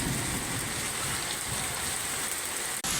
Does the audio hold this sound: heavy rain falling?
yes